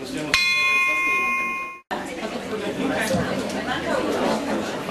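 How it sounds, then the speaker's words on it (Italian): A single bell is struck once at a Rotary Club gathering in a hotel, its clear ringing tone hanging for about a second and a half before cutting off, followed by a crowd chattering and moving about. "dopo il tocco di campana"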